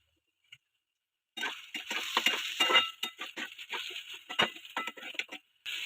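Onion frying in oil in a pan, a crackling sizzle that starts abruptly after a brief silence and continues with uneven pops and occasional stirring clinks.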